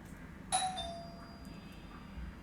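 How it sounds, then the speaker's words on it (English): A doorbell gives a single bright electronic ding-dong in a quiet home, with the chime ringing out and then fading slowly. "Interesting that the doorbell just rang as soon as I was speaking of like memories."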